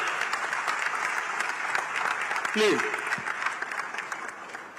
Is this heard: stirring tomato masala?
no